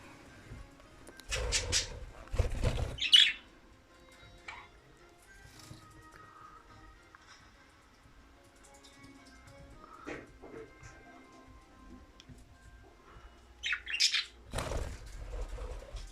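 A pet budgerigar and cockatiel give sharp, sporadic chirps and brief bursts of wing flapping in a quiet indoor room, with long near-silent gaps between the short flurries.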